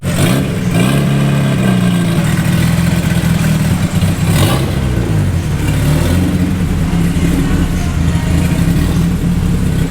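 A stock turbo B20 engine in a Honda Integra runs steadily in a dyno shop, a loud, continuous low drone with some clatter and no talk over it.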